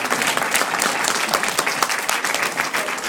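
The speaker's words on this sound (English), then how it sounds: "Won't you stand up and give yourselves a round of applause?" An audience applauds itself, a dense wash of clapping that holds loud and steady throughout the short stretch, with no voices standing out.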